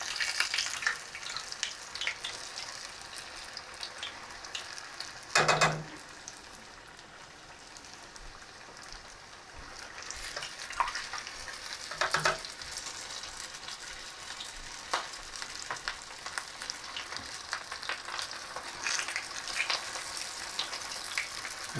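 Cheesesteak egg rolls fry in a pan with a steady, crackling oil sizzle throughout. Two brief louder clatters break through as the rolls are flipped.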